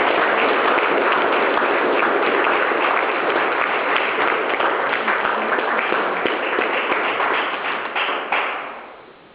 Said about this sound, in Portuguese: Vamos receber o pastor Jorge com uma salva de palmas ao Senhor.